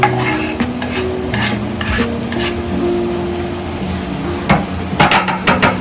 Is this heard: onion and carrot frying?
yes